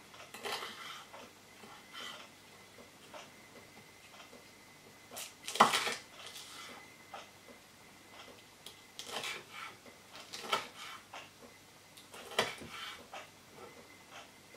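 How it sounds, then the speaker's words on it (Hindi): An Edge of Belgravia kitchen knife slices green chilies into julienne strips on a board, making a series of close, crisp taps and clicks in irregular bursts, with a few sharper knocks standing out. "उसके बाद आपने इसको यूं स्लाइसेस में काट लेना होता है"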